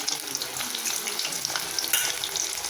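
Cauliflower pieces frying in hot oil for cauliflower fried rice, a close, continuous crackling sizzle with scattered sharper pops and no voices.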